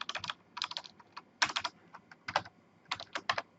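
Fingers tapping a computer keyboard in short bursts of quick keystrokes separated by brief pauses, close and clear in a quiet room.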